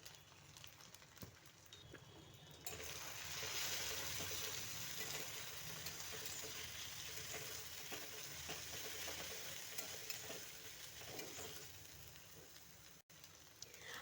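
Cumin, coriander and ginger paste fry in hot oil with onions and chilli for a boal fish curry with potato and eggplant, giving a steady close sizzle with the scrape of stirring and no talking.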